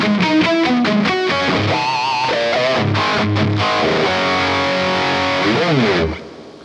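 Distorted electric guitar playing a riff through a Yamaha THR10 amp on its Brit High model, with reverb and delay; fast, dense, loud riffing and bends, then the sound cuts off near the end.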